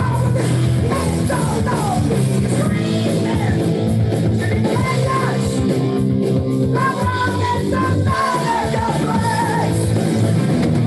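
A heavy metal song plays loud and dense, with driving distorted instruments and shouted, yelling vocals throughout.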